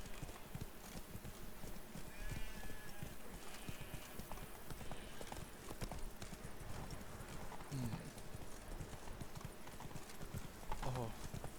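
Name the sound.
horse galloping in The Witcher 3 video game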